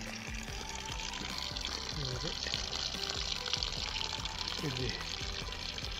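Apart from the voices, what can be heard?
mountain stream water running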